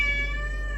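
A cat gives one short, clear meow, fairly close and alone, with a faint hum underneath.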